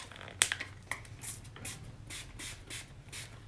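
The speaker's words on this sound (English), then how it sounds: "This is the BH makeup setting spray." A BH makeup setting spray with a spray top releases several short, soft mist bursts close by, quick hissing puffs spaced irregularly over a few seconds.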